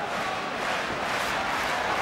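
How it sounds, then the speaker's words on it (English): An arena crowd roars during a heavyweight boxing title fight between David Haye and John Ruiz, a loud, sustained wall of cheering and shouting with no commentary over it. "Crowd are loving it too."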